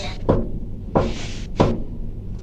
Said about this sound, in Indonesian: Ketuk lagi sebanyak 3 ketukan.